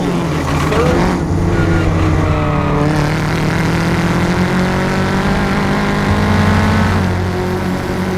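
Race cars in the 1600 Series storm toward a second complex of corners on a wet track, several engines droning loud and continuous with rising and falling revs, a steady roar throughout.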